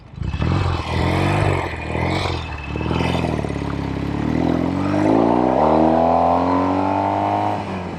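A 1973 Norton 850 Commando motorcycle engine pulls strongly while riding, loud and close, its tone climbing smoothly through a sustained acceleration with a shift partway through.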